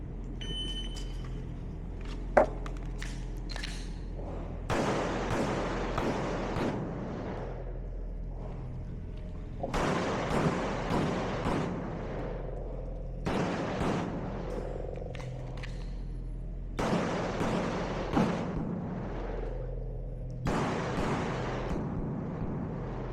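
Competition pistol shots ring out during a shooting stage in quick clustered strings separated by pauses, each burst a run of sharp cracks at moderate distance, with no talk over them.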